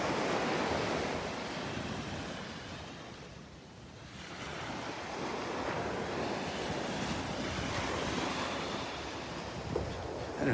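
Ocean surf rolling onto the beach at Delnor-Wiggins, a broad continuous wash of breaking waves mixed with gusty wind noise on the microphone, swelling and easing over time with no voices.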